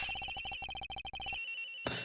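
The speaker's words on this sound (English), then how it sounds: "The ringing's definitely coming from somewhere in this room, sir." A cell phone in the Ace Attorney Investigations video game rings in a fast, trilling electronic pattern, bursts of rapid beeps repeating loud and close for over a second before cutting off, followed by a brief click.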